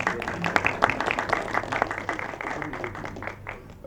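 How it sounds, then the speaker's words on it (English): Audience applause at a movie promotion event for an action film, a dense patter of hand claps at moderate level filling the whole stretch without a break, with some crowd noise mixed in. "Can we have a huge round of applause"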